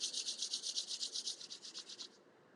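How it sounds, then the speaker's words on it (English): Two hands rubbing together briskly in a quiet room, producing a steady rhythmic swishing of skin on skin, about a dozen quick strokes that stop near the end. "Rub your hands together."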